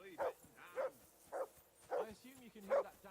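A dog barks in the medieval video game Kingdom Come: Deliverance 2, five spaced woofs at a steady pace, moderately loud, with quieter game voices underneath.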